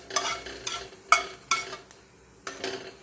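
Black cumin seeds fry in a pan while a spatula stirs them. Sharp scraping strokes repeat about every half second over a faint background sizzle, close and fairly quiet.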